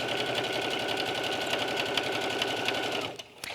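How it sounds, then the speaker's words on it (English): Sewing machine stitching a cork fabric tote, a fast steady mechanical whir of needle strokes running close and loud, then stopping abruptly near the end with a couple of small clicks. "I'm going to stop stitching exactly a 1/2 inch from the corner"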